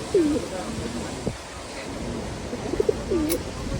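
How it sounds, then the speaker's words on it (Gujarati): Pigeons coo in two soft, rolling calls, one near the start and one near the end, with a steady low background hum between them. "જો મિત્રો કબૂતર છે"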